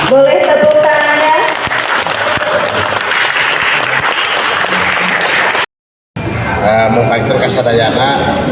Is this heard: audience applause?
yes